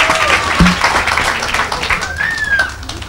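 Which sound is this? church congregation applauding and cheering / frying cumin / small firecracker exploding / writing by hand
church congregation applauding and cheering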